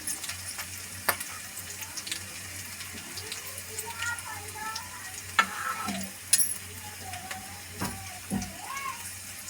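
Masala spices for a samosa filling fry over a slow gas flame, a soft sizzle with stirring scrapes and occasional clinks, with a quiet voice and a running-water sound in the background.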